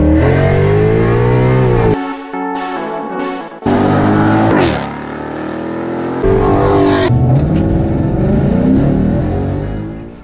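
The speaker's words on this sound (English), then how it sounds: "Give us one more for the rev. Backfire." A tuned 2018 Ford Mustang EcoBoost with 10-speed automatic and E30 fuel revs hard and close, loud climbing engine pitch rising repeatedly, cut by sudden drops and sharp backfire cracks between pulls.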